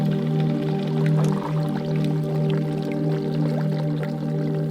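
Steamed milk and coffee pour into cups in a gentle café, a soft continuous liquid trickle over a steady low hum, close and even.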